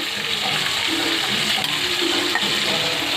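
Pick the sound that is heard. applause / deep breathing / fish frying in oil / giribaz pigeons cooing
fish frying in oil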